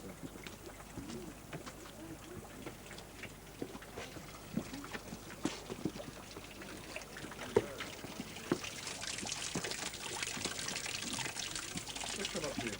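Water trickles and flows steadily from one stone pool into the next at ancient Peruvian ruins, a soft continuous wash that grows louder toward the end, with scattered footsteps, birds and people talking nearby.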